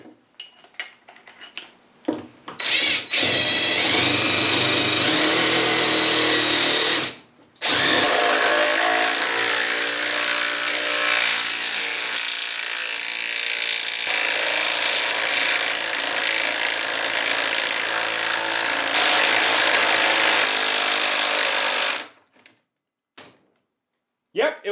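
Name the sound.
RIDGID Gen5X impact driver driving 5/8-inch lag bolt into post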